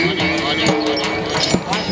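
Horses' hooves clip-clopping on the ground at a horse dance event at a shrine festival, rhythmic irregular thuds under loud continuous talk from an announcer and crowd.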